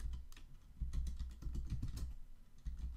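Quick, steady computer keyboard typing close by, a run of light clicking keystrokes with no talking.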